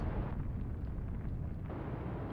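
Tanker exploding in Atlantic Fleet, a deep sustained rumbling roar dominated by low end, loud and continuous with no voices over it.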